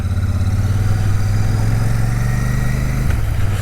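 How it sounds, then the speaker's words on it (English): Royal Enfield 650 Shotgun motorcycle engine running while riding, a loud, steady low throb that holds for about three seconds and then shifts briefly near the end, with no talk over it. "It does feel like an old British bike engine, but"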